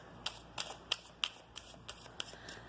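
Tarot cards are shuffled quietly at close range, a series of about eight soft, crisp riffling flicks spaced irregularly under low room noise, with no talking.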